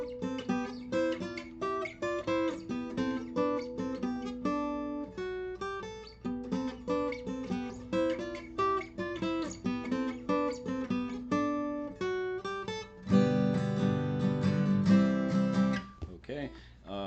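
Electric guitar plays an intro riff in two-part harmony, bright plucked notes in a quick, repeating melodic line, ending with a louder strummed chordal swell, played alone.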